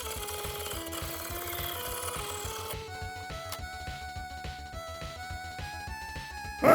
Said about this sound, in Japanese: こやつを卓上万力に縛り上げて、真っ二つに切断。